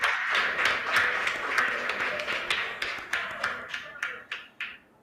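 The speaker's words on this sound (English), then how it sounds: "Let's give them a round of applause." An audience at a Greater Accra regional school quiz contest applauds a school, with dense, loud clapping that gradually thins into scattered separate claps before stopping.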